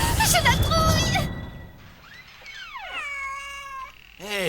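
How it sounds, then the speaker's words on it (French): A cat meows several times, loud and close, in long pitch-bending wails that slide up and down, the last one starting abruptly after a brief gap, following a noisy, clattering burst at the start. "C'est un chat. Vous reconnaissez pas un miaulement de chat?"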